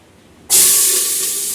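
A sudden loud hiss bursts in and holds steady, the sharp sizzle of spices dropped into hot oil.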